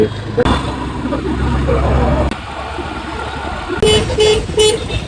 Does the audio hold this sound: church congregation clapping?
no